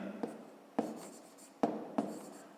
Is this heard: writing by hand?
yes